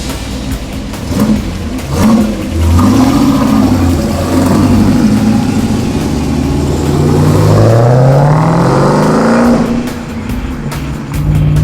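A car engine revs up loudly and steadily, pitch climbing and sweeping as it accelerates, then settling back, close and continuous.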